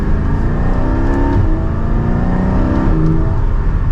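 Inside a Porsche 718 Spyder with the sports exhaust switched off, the engine accelerates hard and the PDK gearbox snaps through quick upshifts, the note climbing and briefly dipping at each change; no talking.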